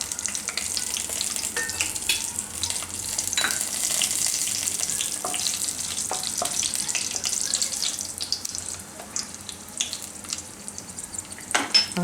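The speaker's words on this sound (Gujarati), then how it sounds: "તો એમાં આપણે જીરું નાખશું અને તમાલપત્ર" Cumin seeds, bay leaf and red chillies sizzle in hot oil in a pan, a steady close crackle and hiss that goes on throughout with no talking.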